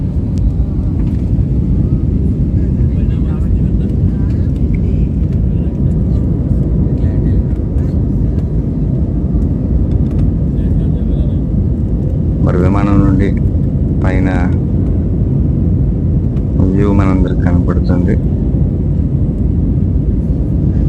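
Inside a passenger airplane flying from Chennai, a loud, steady engine drone and cabin rumble fill the whole stretch, with someone talking over it in several bursts.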